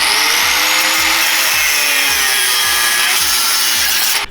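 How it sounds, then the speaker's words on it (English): A power grinder works a bolt on a Honda Fit suspension, a loud continuous gritty rasp with steady high grinding tone and rhythmic lower strokes repeating about every half second, alone without talk. "we're gonna have to grind the bolt out"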